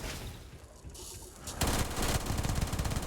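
Rapid automatic gunfire from the PDW 27 firearm, fitted with armor-piercing rounds, in the video game Starfield: a loud, dense burst of shots that starts abruptly after a quieter stretch and continues steadily to the end.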